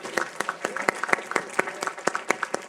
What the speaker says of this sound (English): big round of applause for all our spellers.